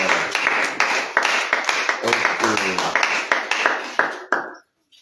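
A church congregation claps in a steady, lively rhythm, many hands striking together in repeated beats for several seconds before the clapping stops abruptly into silence.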